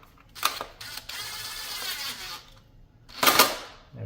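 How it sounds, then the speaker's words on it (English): A 10mm bolt is driven back into the plastic engine cover of a 2013-2017 Honda Accord during a spark plug job, giving a few close, sharp mechanical clicks and ratcheting bursts separated by a short quiet stretch. "then I'm just gonna put the 10mm bolt back on there"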